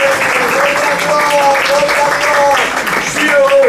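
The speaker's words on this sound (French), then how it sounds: "Alors applaudissez le Seigneur." A church congregation applauds in praise during a French-language sermon, a steady dense wash of clapping that runs the whole time, with voices rising over it.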